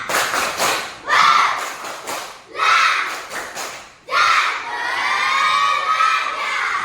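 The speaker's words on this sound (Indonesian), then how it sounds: "Tepuk pelajar." A class of schoolchildren does a patterned student clap, crisp unison handclaps in rhythmic clusters punctuated by loud shouted chanting, finishing with a long collective cry, near and energetic.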